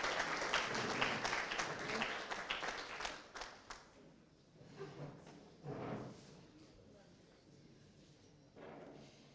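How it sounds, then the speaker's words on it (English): Audience clapping on the final day of a medtech hackathon in Uganda, a dense round of applause that thins out into scattered claps and thumps, faint and somewhat distant, with murmuring voices underneath. "Another round of applause for our OHT."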